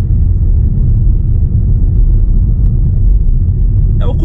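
A car coasting with the accelerator released and fuel cut off, a loud, steady low rumble of engine and road noise, with a brief voice at the very end.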